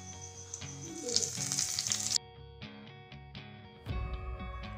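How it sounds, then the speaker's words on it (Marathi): Hot cumin tempering poured into coconut chutney gives a loud, bright sizzle that runs for about two seconds, then falls to a quieter crackle before a second burst of frying near the end. "तर आता हा तडका आपण या चटणीमध्ये टाकून घेऊया"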